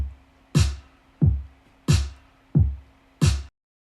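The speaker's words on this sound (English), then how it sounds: "The kick and the snare, extremely simple. They sound like this together." An electronic kick drum and snare alternate in a simple, steady beat, five punchy hits with deep low thumps and bright snare cracks, clean and alone.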